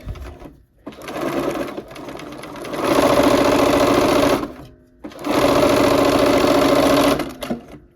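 A sewing machine stitching quilt pieces, running in two loud sustained bursts of rapid mechanical whirring with a short pause between, plus brief quieter stitching at the start.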